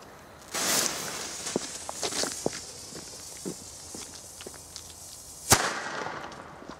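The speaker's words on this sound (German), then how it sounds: "Und der rote Corsair, mega geiler Böller." Two sharp bangs from red Corsair firecrackers, one near the start and a louder, crisper one later, with crackling debris and scattered pops between them outdoors on New Year's Eve.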